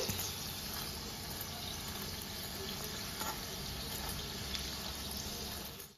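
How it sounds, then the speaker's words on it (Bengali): Egg lollipop balls frying in oil over medium heat, a dense, steady sizzle that holds at an even level throughout and cuts off at the end, with no talking. "বলগুলোকে মিডিয়াম আঁচে ফ্রাই করতে হবে।"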